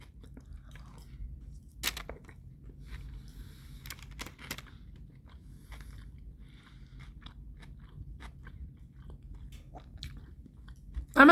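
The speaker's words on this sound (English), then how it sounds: "I'm gonna eat this last bite. So crunchy." Crunchy fish taco being chewed close to the mouth, a few sharp crisp bites and crunches standing out over a soft, steady low rumble, with no talking.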